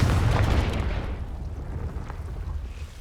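A Confringo blasting curse explodes in Hogwarts Legacy, a loud deep boom at the start that rumbles and slowly fades over about three seconds.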